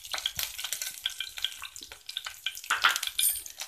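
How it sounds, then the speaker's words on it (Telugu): Two spoons of cumin seeds in hot oil, the start of a broad bean and tomato curry, crackle and spit in quick irregular pops over a light sizzle, close and fairly loud. "ఆయిల్ ఇప్పుడు వేడైంది కదా, జీలకర్ర ఒక 2 స్పూన్స్ వేస్తాం."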